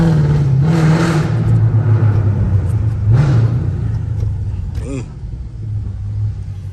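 A catless Hemi 5.7 V8 engine rumbles loud and deep as the car drives through a tunnel in the rain, with the pitch rising and dipping as it revs.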